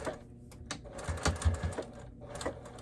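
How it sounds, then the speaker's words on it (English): A sewing machine stitches through the thick fabric of an upcycled dog bed in short, uneven bursts of rapid needle clatter, close up, with pauses between runs. "So we'll just go ahead and sew from one armpit to the other."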